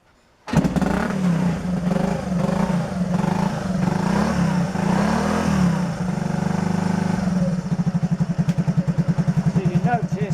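A Honda C90 motorcycle engine starts and runs close by, settling into a steady low putter that turns to a faster, pulsing idle near the end, with no talk over it.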